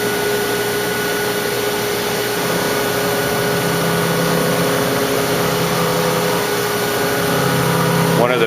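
A CNC machine cuts a seat part with a steady, loud whirring drone and a constant high-pitched tonal whine, continuous throughout with a slight rise near the end.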